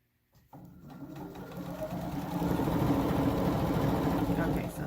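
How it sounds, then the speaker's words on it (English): Sewing machine stitching a quarter-inch seam on string quilt blocks, starting after a brief pause and building into a steady, close mechanical whir that holds to the end. "stitch approximately a 1/4 inch seam"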